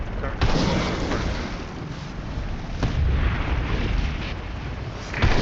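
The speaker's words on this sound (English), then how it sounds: "Use your torpedo rockets on those ships." Rocket and cannon fire from a space battle in a video game, a dense rumbling barrage of booming blasts with sharp bursts near the start, middle and end, continuous and loud throughout.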